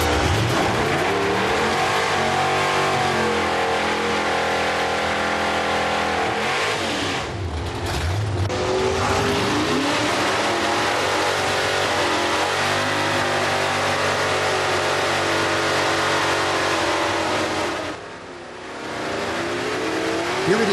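Classic American muscle cars at a drag strip in a final elimination round, including a 427 FE, 427 Rat, 390 AMX, 455 GSX, 426 Wedge, 428 CJ and 455 H.O.: loud, steady engine roar with revving surges and a brief lift near the end.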